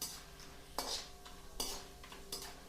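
Cinnamon sticks being stirred in oil in a pan over low heat, with several sharp clinks of a utensil against the metal pan over a faint background, quiet and close, no voices.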